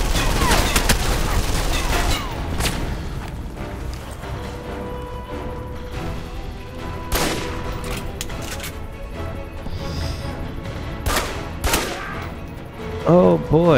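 Gunfire in the video game Alpha Protocol comes as repeated sharp shots and bursts of rapid fire, loud and close, with crashes mixed in and game sounds between volleys.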